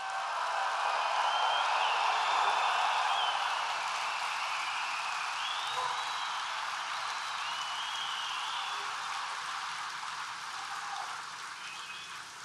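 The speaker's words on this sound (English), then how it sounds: "we want to give them a big, big, beautiful round of applause." A big, sustained round of applause from an audience honouring veterans at a National Rifle Association leadership forum, steady dense clapping that swells early and then slowly fades while continuing throughout.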